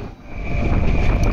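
A passenger train pulls away from Gobra halt, a steady rumbling roar with a constant whine building slightly in loudness over the short stretch, no voices.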